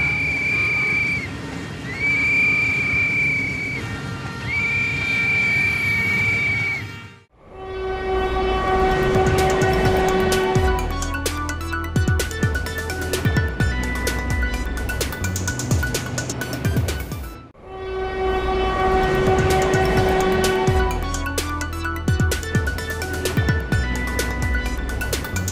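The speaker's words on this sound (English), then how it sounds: "Train is coming. Train is coming." Train rolling past at a railway junction, with loud continuous wheel rumble and clatter and a long sustained horn blast sounding twice, close and dominant throughout.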